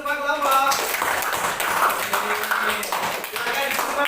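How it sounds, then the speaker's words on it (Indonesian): Classroom applause for all the student groups, broadband clapping from a room of pupils running through the whole stretch, with voices talking over it. "Tepuk tangan untuk semua kelompok."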